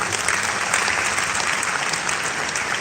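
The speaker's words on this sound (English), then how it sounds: "I think it deserves another round of applause," Dense, sustained applause from a seated audience at a professional development conference session, loud and even for a few seconds with no voices over it.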